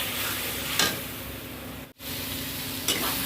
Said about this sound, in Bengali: অল্প একটু লবণ, অল্প একটু হলুদ দিলাম। ভালো করে এটা কষাবো